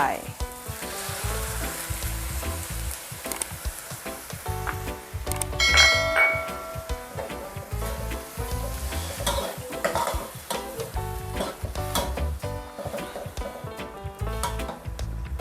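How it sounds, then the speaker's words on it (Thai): Fingerroot and crispy fried catfish stir-fried in a hot pan, giving a steady loud sizzle with repeated scraping and clattering of the spatula throughout, no voices. "ก็ผัดจนกระชายมีกลิ่นหอม"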